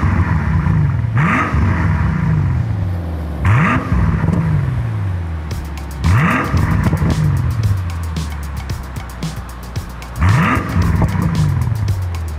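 A 2006 Mercedes SL65 AMG with a 604-horsepower engine is revved repeatedly, four loud rising blips that fall back to a deep idle, with the rumble close and continuous between them.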